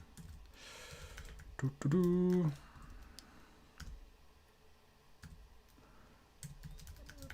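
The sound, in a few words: typing on a computer keyboard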